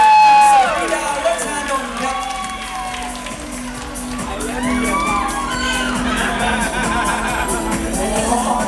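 A large audience at the Miss Tiffany's Universe 2012 beauty pageant finals cheers and shouts continuously, a dense roar of voices and whoops with an announcer speaking over it.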